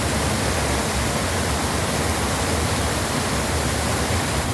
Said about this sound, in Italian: proprio davanti a questa piccola cascata